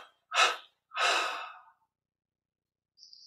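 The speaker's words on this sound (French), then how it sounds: "Expire en 3 fois." Breath pushed out in three long exhalations during a guided meditation session, two strong airy breaths close to the ear followed by a fainter third, with silence between them.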